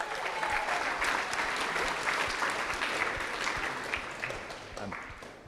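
A crowd applauding Lauren at a CrossFit Games 2019 live Open announcement in Sydney, Australia, dense sustained clapping that fills the room and slowly tapers toward the end.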